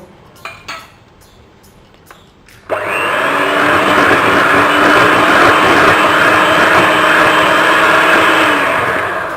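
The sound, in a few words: electric mixer beating cake batter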